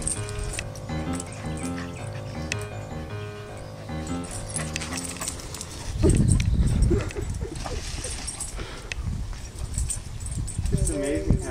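Dogs growl and scuffle in rough play, a sudden louder burst midway, with a television or music playing in the background and people talking.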